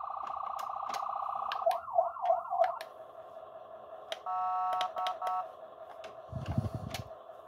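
A toy radio-controlled ambulance sounds its electronic siren: a rapid warbling tone, then slower wailing sweeps, a brief two-tone pattern and a steady beeping tone, with a short rumbling burst near the end.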